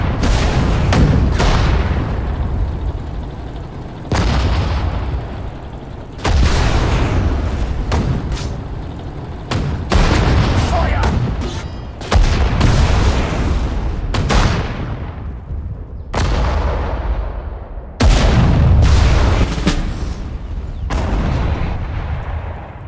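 Heavy artillery fire and explosions in the WWII strategy game Sudden Strike 4 at the Battle of Hurtgen Forest: repeated loud booms, each followed by a rumbling decay, come every few seconds and overlap into a steady bombardment.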